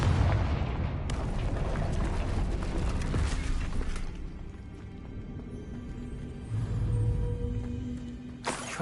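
A Confringo explosive spell bursts in Hogwarts Legacy, giving a loud, booming blast with a rumbling tail that decays into quieter ambience, followed by a further softer whoosh-like burst near the end.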